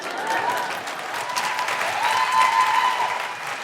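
A live comedy podcast audience in Perth claps steadily in a sustained round of applause, moderately loud and continuous, with a faint murmur of crowd voices underneath.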